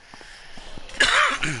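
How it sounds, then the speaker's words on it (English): A short cough bursts out close to the microphone during a Resident Evil walkthrough, with a second, smaller burst following, heard alone without talk. "Sorry for the cough."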